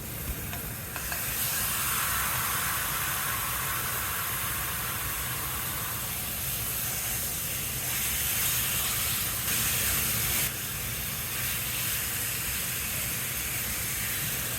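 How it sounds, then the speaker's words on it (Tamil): Boneless chicken, cut into small pieces, hits hot oil in a pan for spicy Tamil chicken chukka, giving a loud, steady sizzle and hiss with stirring that carries on throughout without speech. "500 கிராம் போன்லெஸ் சிக்கன் சின்ன சின்ன துண்டாக வெட்டி இதோட சேர்க்குறேன்"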